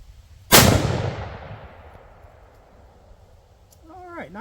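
A single loud rifle shot from a CZ 600 Alpha chambered in 6.5 PRC cracks downrange at a shooting range, its echo decaying slowly before a brief faint squeak at the end.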